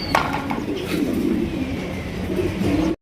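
Large Indonesian pigeons kept for sale coo continuously and close by, with overlapping soft throaty calls filling the whole stretch.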